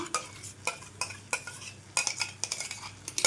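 Cashew tomato puree being stirred into a potato and cauliflower curry, a spoon scraping and clinking against the pan in repeated strokes, close and fairly quiet over a low sizzle, with no talk.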